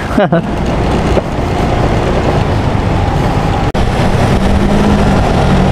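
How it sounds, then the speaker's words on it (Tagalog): Constant loud drone of heavy road traffic, heard from inside a car on a road trip out of Ortigas in heavy congestion, with a brief dip partway through. "Yun, grabe traffic."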